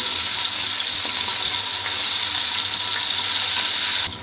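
Pointed gourds frying in hot oil in a home kitchen, a steady bright sizzle with faint clinks as the pieces are turned, ending abruptly.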